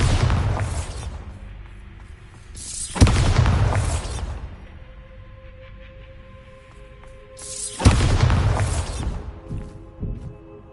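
Bombarda explosion spells in Hogwarts Legacy, set off in a shop haunted by a poltergeist: three loud booming blasts that decay over a couple of seconds, separated by quieter stretches.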